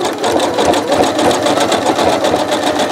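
A sewing machine runs steadily, stitching coiled rope together to form a rope bowl, its needle hammering in a fast, even rhythm at close range with no talking.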